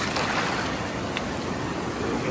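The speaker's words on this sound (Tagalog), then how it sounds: "Lakas ng alon." Surf breaks steadily against a rocky shore, a loud continuous wash of water with gusty wind noise on the microphone and no speech.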